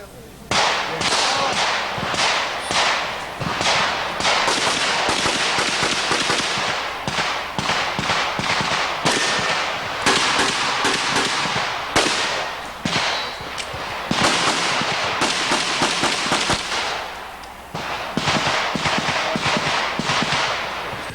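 Rapid gunfire at a shooting demonstration by a U.S. Army shooting team, with dense, sharp cracks fired back to back for most of the stretch and only brief pauses between bursts.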